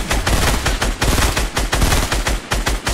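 Rapid bursts of automatic gunfire in the video game Fortnite, loud and close, with repeated sharp shots in quick rhythmic volleys throughout.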